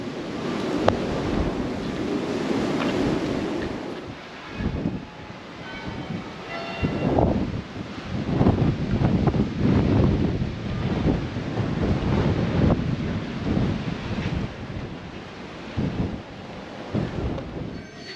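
Strong wind at the harbor of St George's, Grenada, roaring across the microphone in loud rumbling gusts that swell and ease, with no voices heard.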